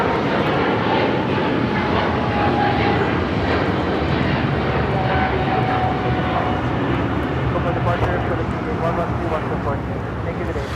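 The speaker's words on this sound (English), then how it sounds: "This is Philippine Airlines Flight 102 taking off to Manila on the 777-300ER." A Philippine Airlines Boeing 777-300ER takes off at Los Angeles airport, its jet engines producing a loud, steady roar that holds throughout, with a voice talking over it.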